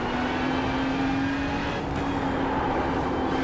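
A Ferrari GT3 race car in the iRacing sim accelerates at Spa-Francorchamps, its engine a loud, steady, continuous drone held close throughout with no pause.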